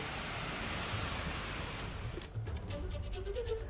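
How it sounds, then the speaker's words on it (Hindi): Heavy rain pours down over waterlogged streets in Nainital, Uttarakhand, forming a dense, unbroken wash of noise, with water running across the area and faint higher-pitched sounds surfacing toward the end. "भारी बारिश की वजह से पूरे इलाके में पानी बह रहा है"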